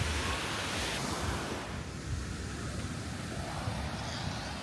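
Surf washes steadily onto a clean beach in Hoi An, Vietnam, a continuous broad roar of breaking waves with some wind rumble on the microphone.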